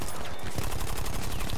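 Rapid gunfire during a shootout in a video game, a dense continuous rattle of overlapping shots that keeps a steady, loud level throughout with no pauses.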